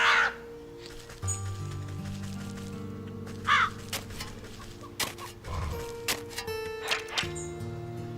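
Cawing crows in the video game Wytchwood, several short harsh calls scattered across the scene over steady tonal game music and ambience.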